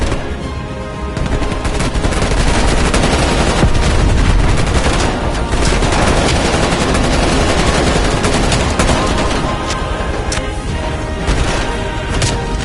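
Sustained heavy gunfire in the video game Call of Duty Black Ops Cold War, loud continuous automatic bursts and blasts with crashes filling the whole stretch, no talk.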